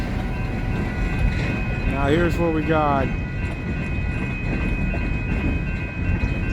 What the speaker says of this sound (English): we got the train coming